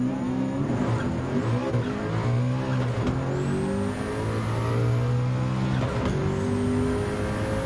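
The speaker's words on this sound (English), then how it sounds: "Next up, Coque Lopez in the BMW McLaren F1 GTR LM 1995." A 1995 BMW McLaren F1 GTR LM race car in Gran Turismo 7 revs hard and loud, its engine pitch climbing and dropping through gear changes without a break.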